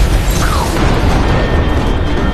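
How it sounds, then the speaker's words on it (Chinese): A hydrogen-filled shelter blowing up in a disaster film, heard as a loud, dense, continuous roar of blast and debris filling the short moment. "但在经过这次爆炸之后"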